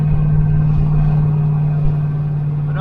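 A 1972 Chevy Nova rolling down the road at around 55 mph, heard from inside as a steady, loud low engine drone and road rumble with a strong constant hum.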